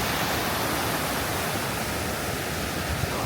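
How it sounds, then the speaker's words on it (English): A constant broadband rush of a waterfall in the Porcupine Mountains, steady and loud with no breaks or voices. "Get another look of the waterfall over here."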